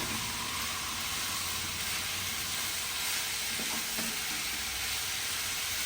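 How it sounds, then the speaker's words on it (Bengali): Tender bottle gourd being stirred in a pan over a raised gas flame for lau chingri: a loud, unbroken frying hiss with a few faint scrapes underneath. "গ্যাসটা বাড়িয়ে নিয়ে লাউটা দিয়ে একটু নাড়াচাড়া করে নেব।"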